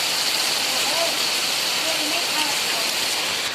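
Heavy rain with hail pouring down in Bhavnagar, a dense, even roaring hiss that fills the whole stretch without a break, with a faint voice murmuring briefly beneath the downpour.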